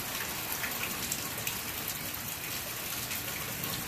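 Steady rain patters on a hammock tarp and its surroundings during an outdoor hammock setup, a dense, even hiss with scattered close drops and no talking.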